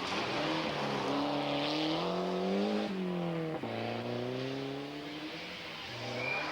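A 1600 cc two-wheel-drive Nova rally car with a slipping clutch, competing in the 1991 Rally of Great Britain, revs hard and close. The engine note climbs and drops repeatedly and stays loud throughout, with no voices.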